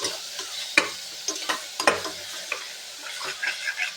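Tomatoes sauté in a pan for biryani, giving a soft, quiet sizzle broken by scattered stirring scrapes and clinks from a spoon.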